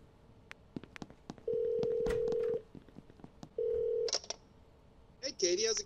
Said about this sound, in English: Could I use your phone, Katie?